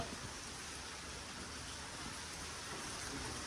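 Rain falls steadily in a soft, even wash of hiss, faint and continuous with no voices.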